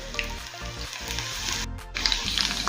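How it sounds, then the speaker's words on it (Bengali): Chicken pieces fry in a pan over low-medium gas, a steady close sizzle with small crackles and pops throughout. "গ্যাসের লো টু মিডিয়ামে রেখে এখন এই চিকেনের পিসগুলো ভেজে নেব।"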